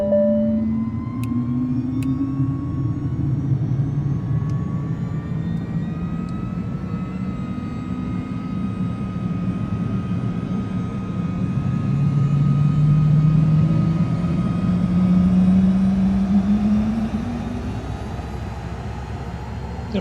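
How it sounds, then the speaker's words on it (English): A Vision Jet G2 jet engine spools up in Microsoft Flight Simulator, a loud, steady whine and rushing roar whose pitch slowly rises and swells midway before settling, with no talk over it. "And we'll go ahead and get our engine fired up."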